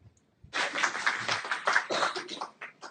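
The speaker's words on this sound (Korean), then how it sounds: "회장님이 나오실 때하고 박수가 다르군요" Audience applause at a social welfare policy forum, a moderate burst of clapping from a seated crowd that starts abruptly after a brief pause and carries on unevenly before fading out.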